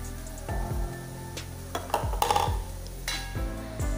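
A utensil stirs and scrapes in a pot of shrimp soup, with soft clinks against the metal and a faint bubbling hiss underneath, in short irregular strokes.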